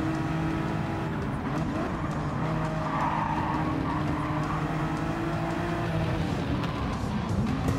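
Racing cars in Gran Turismo 7 hold a constant engine drone with tyre scrub and squeals, with a brief burst of contact noise in the middle of the run.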